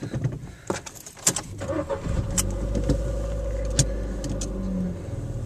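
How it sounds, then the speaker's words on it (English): A car starts and idles close by, a low steady engine rumble building after a few clicks and rattles, like keys and door handling, before it pulls away. "Right, I'm driving off now."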